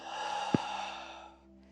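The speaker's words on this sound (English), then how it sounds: "Breathing in, big as you can. Breathing out." A deep out-breath during a guided qigong breathing exercise, a soft, steady exhale lasting over a second with a brief puff near its start, heard alone and fairly close.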